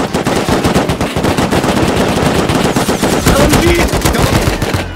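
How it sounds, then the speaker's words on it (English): Rapid automatic AK rifle fire in the survival video game Rust, dense overlapping bursts of shots running continuously and loudly for the whole stretch. "I shot him, body."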